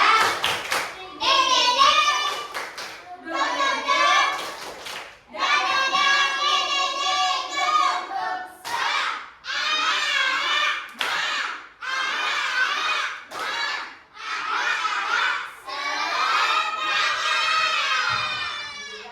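Children in a classroom perform a rhythmic spirit clap, patterned bursts of hand claps mixed with loud chanting and shouting voices, close and continuous throughout.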